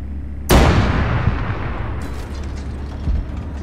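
Heavy artillery gun in a video game fires one loud, booming shot that rolls out into a long fading rumble, with a smaller thud or two following in the tail.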